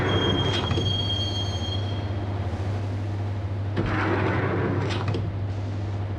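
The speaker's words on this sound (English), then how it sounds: "the train doors had already shut behind me, and I was in for the ride" Train ride in the video game Max Payne: steady low rumble of rolling railcars throughout, with a thin high wheel squeal early on and bursts of clattering rail noise near the middle and end, no talk.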